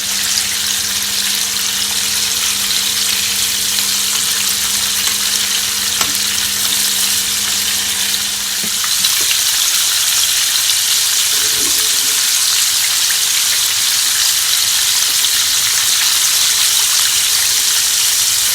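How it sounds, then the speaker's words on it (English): Chicken pieces for a copycat Popeyes fried chicken sandwich fry in hot oil, giving a loud, continuous, close sizzle that holds steady throughout with no talking. "you're just gonna allow it guys to fry for at least 5 minutes on each side"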